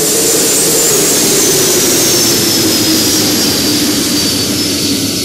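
A Boeing 767's jet engines roar steadily and loudly in flight, a continuous broadband rush with a faint high whine and no breaks.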